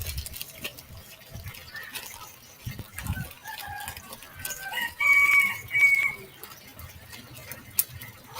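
Rooster crowing in a few short bursts over a busy outdoor background with scattered clucks and bird calls, moderately close and fairly loud.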